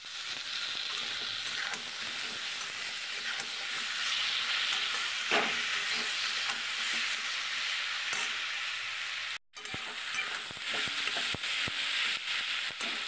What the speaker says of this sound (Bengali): এবার কাঁচা লঙ্কা টমেটো একসঙ্গেই দিয়ে দিচ্ছি।